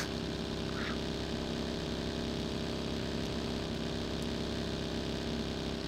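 A video-game motorbike engine runs steadily, giving a constant buzzing hum at even loudness with no real changes in pitch and no talking.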